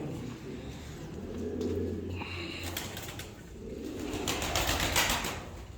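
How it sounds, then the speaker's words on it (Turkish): Miro pigeons coo softly in a breeder's loft, their low murmuring calls faint against a background of light rustling and a brief flutter. "Mirolar var bak. Şu miroları göster."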